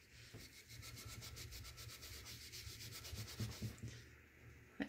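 Steady rubbing and scrubbing at close range as Sharpie ink is worked off a thrifted resin item under firm pressure, a continuous abrasive scratching with a low background hum and a few sharper scrapes near the end.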